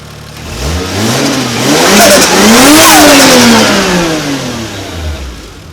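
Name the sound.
1JZ engine in Nissan 240SX running and revving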